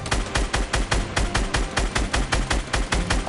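Rapid automatic gunfire in Fortnite, loud and close, about a dozen evenly spaced rhythmic bursts forming a sustained volley.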